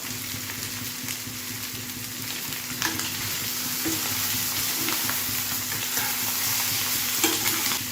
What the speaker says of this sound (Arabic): وبكده احنا حمرنا الطحال في البصل والفلفل